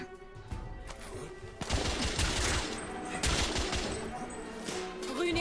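Gunfire in the video game The Order: 1886, with dense, sustained volleys of shots and crashing impacts that build into a loud, continuous barrage of moderate distance, without speech.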